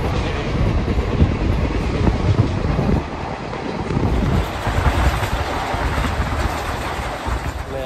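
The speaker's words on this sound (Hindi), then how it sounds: "ट्रेन में हूँ मुझे।" Inside a moving train in India: a loud, continuous roar of the carriage with rushing, wind-like noise and a low rumble that shifts slightly in level, with no speech.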